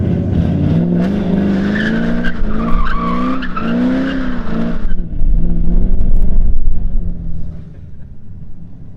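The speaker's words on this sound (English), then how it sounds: "That's how you make a U-turn." A Cadillac CTS-V making a U-turn on a road, tires squealing loudly in a rising, wavering skid, then the engine roaring close as the car accelerates away before fading.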